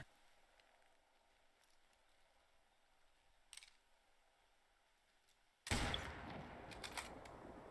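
A single loud hunting-rifle gunshot in the Call of the Wild hunting game bursts out after a quiet stretch, followed by a ringing, rumbling tail.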